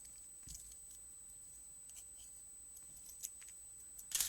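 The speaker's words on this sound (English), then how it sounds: "And I'm just going to snip it" Scissors snip a paper sail piece for a dimensional schooner card craft: a few faint, quiet snips spread out, then a sharper, louder cut right at the end, with no talking.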